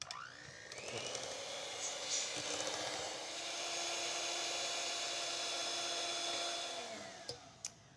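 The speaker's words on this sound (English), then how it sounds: "now I will turn my hand mixer on" Electric hand mixer running steadily for several seconds while whipping mango sorbet body butter, a continuous whirring motor drone that starts, holds at an even level and cuts off near the end.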